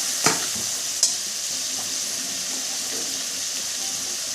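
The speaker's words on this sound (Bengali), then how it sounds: "পেঁয়াজ পেস্ট দিয়ে দেব। ভালো করে নাড়াচাড়া করব।" Onion paste fries in a hot pan with a loud, constant hissing sizzle, while two sharp scraping knocks from stirring stand out early on, close and with no speech.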